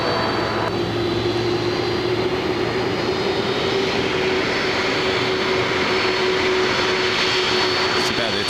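A heavy Boeing 777 departs a runway at LAX, its jet engines giving a loud, steady roar with a sustained tonal whine that holds throughout, heard from the ground nearby.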